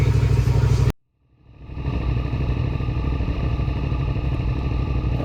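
Stock twin racing motorcycle engine at a race meeting, loud and close, cutting out abruptly then building back to a steady, rough idle warming up, with no talk over it.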